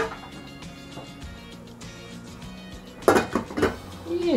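A metal pot and lid rattle and clatter in a few quick shaking bursts as peanuts are shaken inside the covered pot near the end, after a stretch of quieter kitchen clinking.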